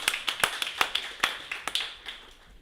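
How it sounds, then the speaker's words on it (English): A few people clap at a convention opening session for the chairman, sparse irregular claps heard close and fairly quiet, thinning out toward the end. "Another round of applause for Chairman"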